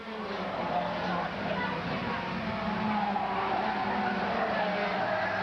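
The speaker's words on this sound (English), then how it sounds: "You can hear the agony of those road tyres." Road tyres on a stock car squeal through a turn during a 2001 Carib Stock Car Series race in Guyana, a steady, loud screech blended with continuous engine roar.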